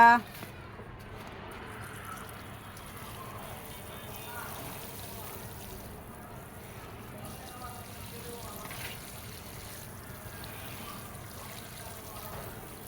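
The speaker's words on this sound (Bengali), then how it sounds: "এখন পানি দিয়ে দেবো" Water pours onto plants in a rooftop vegetable garden during weeding and seed sowing. It makes a faint, steady trickle that blends into low background noise for the whole stretch.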